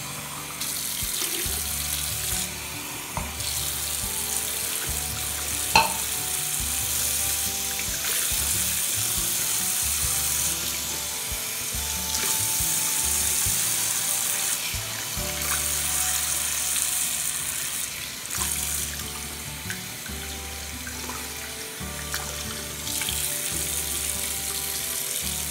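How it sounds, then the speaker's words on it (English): Water runs and splashes into a sink as it is poured over a teddy guinea pig during a bath, a continuous close trickle and spatter with small shifts in flow and occasional knocks. "I'm going to gently pour water on her body."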